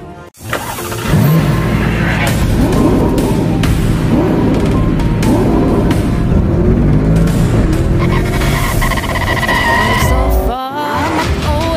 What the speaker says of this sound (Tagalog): May motor lang.